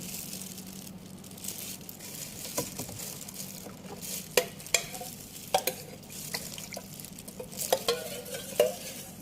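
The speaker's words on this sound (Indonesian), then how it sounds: "Lalu kita aduk supaya larutan garam dengan larutan rempahnya menjadi satu atau tercampur homogen." Salt solution is stirred together with a spice solution for making salted eggs, producing faint, irregular scraping and sloshing with scattered sharp clicks and knocks of a utensil against the container, all quiet and close.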